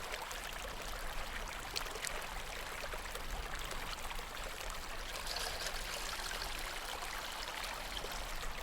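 Steady, continuous rush of cartoon-style spring water flowing and splashing, broadband and even throughout with no breaks, moderately loud and close, with no voices.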